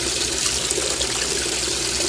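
Water runs steadily inside a washing machine during a laundry cycle, a close, continuous hissing splash with no pauses and no voices.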